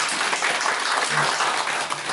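Brief applause rises from the audience at a panel debate on household energy costs in Daegu, a short, dense burst of clapping at steady volume.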